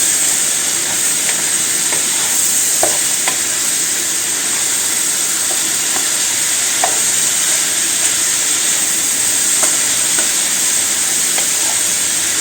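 Mushrooms frying with chorizo in a pan, a steady close sizzle and hiss throughout, with faint scattered pops and no talk.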